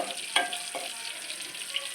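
Green chillies fry in a pan for jeera rice, a quiet, steady sizzle with a few light clicks and crackles over a couple of seconds.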